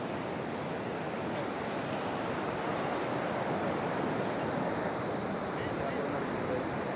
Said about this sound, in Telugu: అలలు ఎక్కువ ఉన్నాయి, భయంకరంగా ఉన్నాయి అలలు.